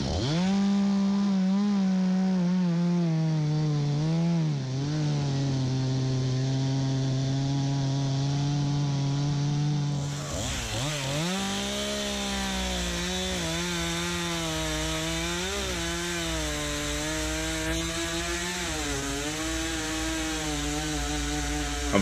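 A chainsaw cuts through the trunk of a large felled maple in a forest, its engine roaring continuously and close for over twenty seconds, pitch bogging and surging as the chain bites into the wood.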